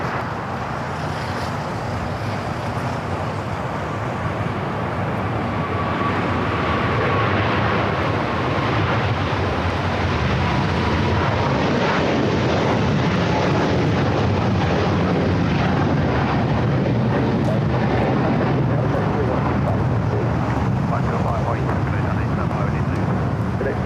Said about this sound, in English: that aircraft took off on the north side